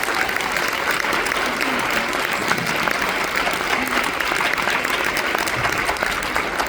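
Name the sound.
audience applause at a band concert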